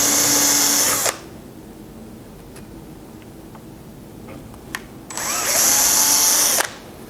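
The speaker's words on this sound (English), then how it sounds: "We'll drill 2 of these on each side of the frame" A power drill bores holes for turn buttons in a wooden Craftsman-style picture frame, two loud, steady whining bursts of about a second each separated by a quiet stretch.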